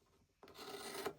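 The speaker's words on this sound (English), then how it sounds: "I'm going to trim my excess" Quilt fabric on a Christmas tree quilt block has its excess corner trimmed, making a single brief, soft rasping cut that lasts under a second after a short pause.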